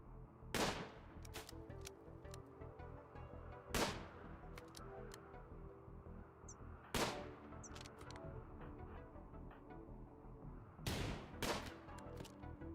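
Sharp gunshots in RimWorld ring out in irregular single cracks and quick pairs over a steady low ambient bed, fairly loud against the background with long gaps between shots.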